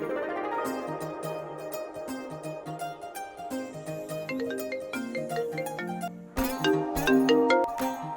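A mobile phone ringtone in a Bangla movie scene plays a melodic electronic tune of quick plucked and chiming notes, fairly quiet at first and then louder near the end, with no talk.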